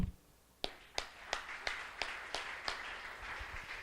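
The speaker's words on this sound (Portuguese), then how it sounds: "Uma salva de palmas ao Senhor." Rhythmic group clapping by a church congregation during a sermon, eight even claps in a steady beat after a short quiet start, with a faint room murmur between them.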